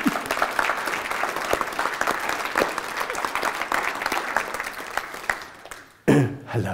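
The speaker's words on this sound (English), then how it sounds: "Could you please give her an applause?" Audience claps for a woman at a spiritual channeling event, a steady crowd applause lasting about six seconds, then tapering before cutting abruptly to a voice speaking.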